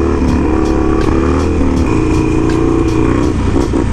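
A small 212 engine minibike on a Chicago street revs loud and close, a buzzy motor drone whose pitch rises and falls with the throttle.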